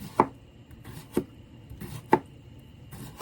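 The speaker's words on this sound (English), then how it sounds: "This is the 4th one. I'm slicing," A knife slicing cucumbers on a cutting board, four crisp separate chops about one second apart, close and clear against a quiet background.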